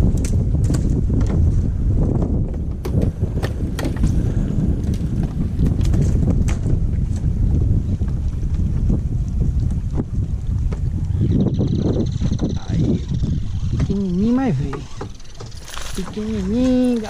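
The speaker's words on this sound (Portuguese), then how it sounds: "Vento, tá atrapalhando bastante," Outdoors, strong wind buffets the microphone with a loud, continuous low rumble and gusty flutter; a voice briefly comes through near the end.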